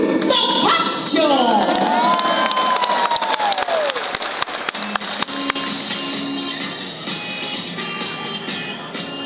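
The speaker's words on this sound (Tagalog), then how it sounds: "Palakpakan po natin ng masigabo, samahan ng sigawan" Loud applause and cheering from a live audience at an event in Tiaong, Quezon, greeting an attorney guest onstage, a dense crowd roar with whoops and a rising whistle that thins into scattered clapping.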